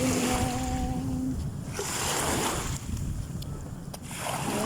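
Ocean waves washing at the seashore, a broad continuous surf roar with wind buffeting the microphone, close and loud, swelling and easing over a few seconds.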